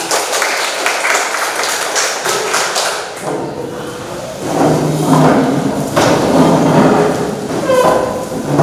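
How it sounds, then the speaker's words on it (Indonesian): A class applauds in a school lesson: loud, dense, continuous clapping that fills the room, with a brief dip partway through and no clear talking. "Oke, tepuk tangan semuanya."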